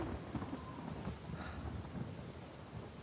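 A stormy scene in Uncharted 4, with low rumbling thunder rolling under steady rain and wind noise, fairly faint and continuous, no talking.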